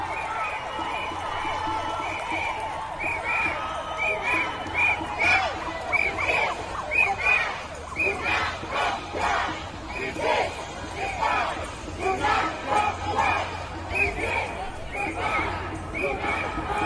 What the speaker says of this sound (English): Here's a clip of the anti-vaxxer riot and police clapping in favor of them.